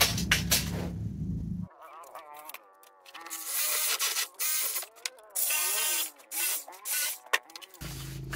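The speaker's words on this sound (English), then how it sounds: "I'm going to measure this out, and I'm going to cut it with Sawzall" A Sawzall reciprocating saw cuts through 3/4-inch PVC pipe in several short whining bursts separated by brief pauses, close and fairly loud, with no voices.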